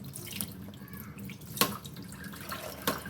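Water drips and trickles from a kitchen sink as mixed lentils are rinsed and the cloudy water drains away, with soft irregular splashes and a few sharper drips.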